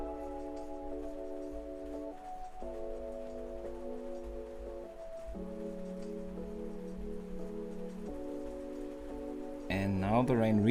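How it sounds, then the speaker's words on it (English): Rain falls outside an open window as a steady, soft patter and hiss, running beneath sustained tonal hum throughout. "and now the rain really starts"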